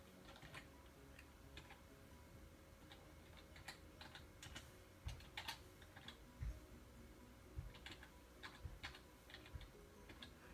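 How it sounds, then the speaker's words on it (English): Quiet, steady tapping on a computer keyboard while text is entered for a T-shirt design, with irregular key clicks and a few louder keystrokes over a faint room hum. "I'm just typing in from my keyboard."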